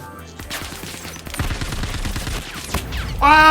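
Rapid gunfire in a video game: a dense string of sharp shots crackling over a few seconds, loud and close, ending in a brighter electronic tone.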